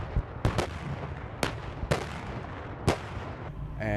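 An M109A7 Paladin self-propelled howitzer firing during a coalition fire mission alongside German, Polish, Ukrainian and Danish forces, several sharp booming blasts spaced irregularly over a constant rumbling background, loud and without speech.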